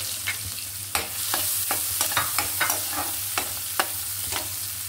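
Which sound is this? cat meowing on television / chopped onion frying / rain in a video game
chopped onion frying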